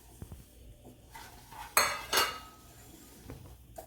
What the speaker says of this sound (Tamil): இந்த மீதி இருக்கிற நெய்யிலேயே இந்த ரவையை போட்டு வறுத்துட்டுருவோம்.